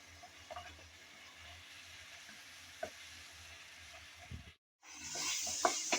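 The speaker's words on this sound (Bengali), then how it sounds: "বেশ কিছুক্ষণ যাবৎ আমি নেড়েচেড়ে ভালোভাবে টমেটো কষিয়ে নিলাম" Chopped tomatoes frying in a pan for spicy vegetable pasta, a steady close sizzle with occasional scraping stirs, briefly cutting out before resuming louder and brighter.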